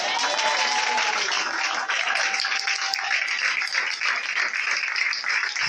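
A church congregation applauding in praise of Jesus, dense continuous clapping filling the room, loud and steady with some faint voices mixed in.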